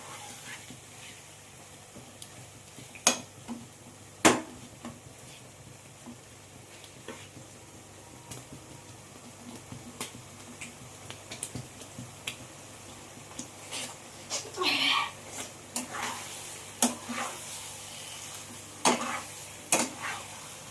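Chicken sizzles steadily in a pan over a high flame for a dum biryani while a spatula scrapes and knocks against the metal in irregular clicks as the meat is stirred.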